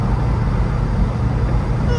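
A 1972 Ford Mustang convertible cruises in fifth gear at 65 mph, giving a steady, loud low engine drone mixed with road and wind noise, with no breaks or shifts.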